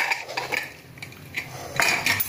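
Steel pressure cooker lid being worked open after cooling on a gas stove while making sambar, giving a few close metallic clinks and scrapes with no talking.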